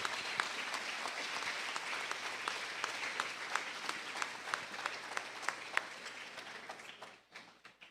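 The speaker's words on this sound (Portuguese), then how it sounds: "Você pode dar mais um aplauso para Jesus?" A church congregation applauding steadily during a Sunday service, with sharp individual claps standing out, then the clapping thins and fades to a few scattered claps at the end.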